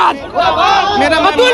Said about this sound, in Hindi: शिक्षक अभ्यर्थी नीतीश कुमार मुर्दाबाद के नारे लगा रहे हैं।